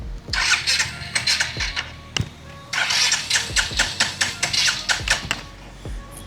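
A Royal Enfield Hunter 350 motorcycle starter cranks again and again in quick, regular bursts, but the engine never catches and runs.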